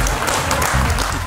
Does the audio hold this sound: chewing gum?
no